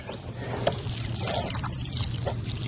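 Water is poured onto the soil around a garden plant, an uneven trickle and splash of moderate loudness with a few small knocks and no voices.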